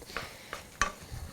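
Chopped onion cooks in oil in a pan for a Creole sausage and tomato pie, giving a soft, quiet sizzle broken by three short stirring scrapes, heard close and alone.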